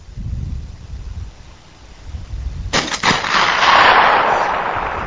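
A single loud blast from an M82A1 SASR sniper rifle fired at a target on a range, with a sharp onset and a long rolling echo and wind rumble trailing after it.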